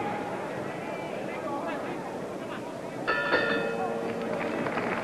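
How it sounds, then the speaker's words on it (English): A boxing match's round-ending bell clangs once in a busy Las Vegas arena, a sharp ringing strike cutting through crowd roar and ringside commentary. "that's the bell for round 9"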